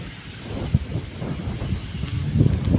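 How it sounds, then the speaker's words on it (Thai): Outdoor wind buffets the microphone in a continuous low rumble with small gusts, rising slightly toward the end, with no voices. "ลม"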